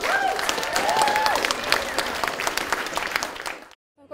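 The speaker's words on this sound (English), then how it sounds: "let's give all our speakers another big round of applause" Wedding guests in a castle barn applaud the speakers with a dense, loud round of clapping and a few cheers, sustained for several seconds before cutting off abruptly.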